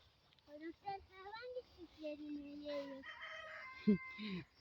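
A rooster crows and chickens cluck close by, with a person talking over the birds.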